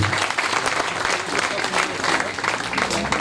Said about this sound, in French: je voudrais qu'on applaudisse très très fort Lucas de Vissanzi